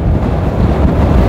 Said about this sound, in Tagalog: Malakas yung hangin natin.